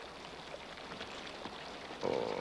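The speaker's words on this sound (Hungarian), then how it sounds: "Ó, ez az átkozott eső, hogy a fene egye meg." Rain falling steadily at dusk in an outdoor scene, a faint continuous patter with scattered drops throughout, joined near the end by a louder tonal sound.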